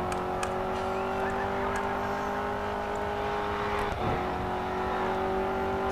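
A racing car in the game Grid 2 runs its engine as it reverses, giving a steady droning whine at roughly constant revs, with a brief dip partway through and no talking.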